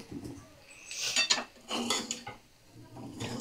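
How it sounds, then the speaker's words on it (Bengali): Semolina with a pinch of salt is dry-roasted in a pan on a medium flame. A spatula scrapes and clinks against the metal in several close, uneven strokes, with no speech. "3 থেকে 4 মিনিট মিডিয়াম ফ্লেমে ভাজবো একটু।"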